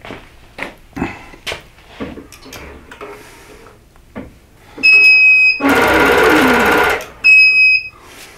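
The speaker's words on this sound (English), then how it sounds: "We're going to be sewing up from the inner border" A quilting machine works on a wholecloth quilt: a few soft clicks and taps, then high electronic beeps around a loud, close burst of fast stitching lasting over a second, followed by more beeps.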